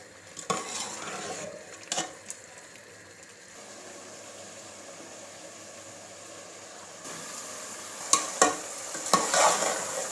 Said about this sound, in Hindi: हाई फ्लेम पे हमने इसे फ्राई करना है